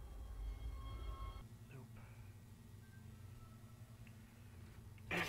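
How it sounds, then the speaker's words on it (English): A tram in the sci-fi horror game Dead Space rumbles along its track, a continuous low mechanical drone with faint metallic whines, steady and enclosed, ending in a brief louder hiss. "Get onto the tram"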